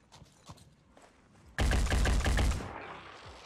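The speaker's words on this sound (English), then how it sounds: "we might shoot him in the shield arm." Gunfire from the tactical video game Phoenix Point: after quiet footstep-like taps, a sudden loud burst of rapid automatic shots rattles for about a second, then a fading tail.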